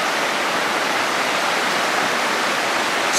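River rapids rush in an outdoor scene, producing a loud, steady, broadband roar of turbulent water that holds constant throughout with no breaks.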